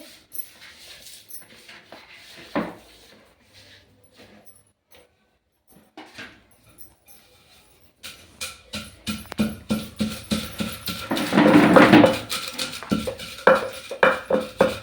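Roasted peanuts, sesame seeds and cumin pounded in a mortar for cucumber roti chutney: after a quiet stretch with scattered small knocks, steady rhythmic thuds begin and build to a loud, close grinding pound.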